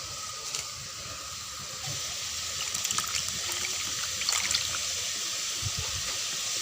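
Chopped bottle gourd cooks in a pan for hilsa fish curry with a steady close sizzle and hiss, broken by small bubbling pops.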